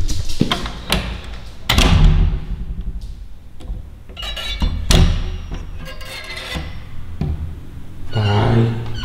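Someone opens a door in a room at home, producing a jumble of sharp knocks, thumps and rattles spread across several seconds, with a scraping clatter near the end. The sounds are close and uneven, without clear speech.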